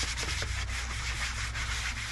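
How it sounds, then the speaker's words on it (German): Hand sanding with 240-grit sandpaper, roughening a surface on a Sprinter camper van before painting: steady close scratchy rubbing strokes in a quick rhythm. "wir rauen das doch erstmal mit ganz normalem Schleifpapier an"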